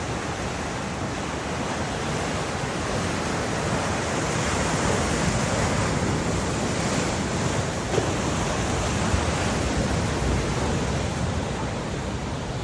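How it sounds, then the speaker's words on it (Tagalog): Sea surf near the Governor Generoso lighthouse in Davao Oriental: a steady, loud, broadband wash of waves that rolls on without pause and swells slightly midway, with no voices. "Tapos paparinig ko ulit sa inyo yung dagat"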